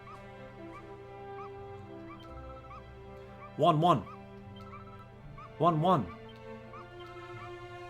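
A dog in the video game Dragon Quest 11 gives two short whimpering yelps, spaced about two seconds apart, over a steady game music background with a person talking softly.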